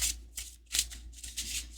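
Oracle cards are shuffled in quick riffling bursts, three or four brisk flutters close by, with no talking.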